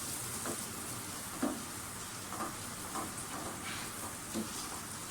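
Unbeaten eggs frying in a pan make a quiet, continuous sizzle, with soft stirring scrapes popping up every second or so.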